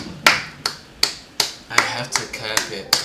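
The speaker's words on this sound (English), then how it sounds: "I have to clap it up" A single person clapping slowly and unevenly, about nine sharp claps spread over three seconds, close and fairly loud, with brief bits of voice in between.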